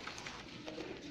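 Low cooing of an aggressive pigeon inside a pigeon loft, a short burst of soft throaty coos heard close with faint background noise and no talk.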